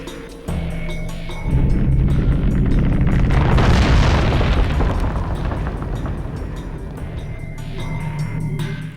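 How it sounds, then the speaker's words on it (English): A crumbling path in the Jak II video game gives a loud, sustained rumbling boom that swells in the middle and stays heavy throughout, with a low hum behind it and no talking. "the way backwards has crumbled and there's no way forwards"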